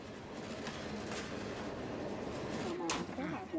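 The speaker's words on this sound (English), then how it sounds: "A train has pulled in at Golmud Station." Rumbling train noise with rolling, clacking wheels as a train pulls into Golmud Station, steady at moderate distance, while a voice talks over it.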